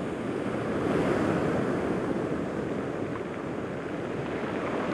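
Surf roars continuously as waves break over rocks in the distance on the Irish Sea coast, a dense rushing wash with some wind noise, steady and fairly loud without clear individual crashes.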